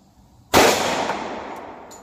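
A single .45 pistol shot, Federal Syntech Defense ammunition fired from a 5-inch barrel into homemade ballistics gel, cracks sharply and loudly, then trails off in a long ringing decay.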